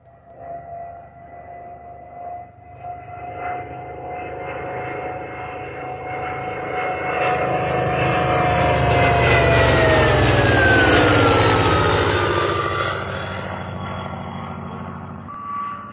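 Propeller airplane at a Navy salute event flying overhead, its engine drone rising as it approaches, peaking loudly with a falling Doppler pitch as it passes, then fading away.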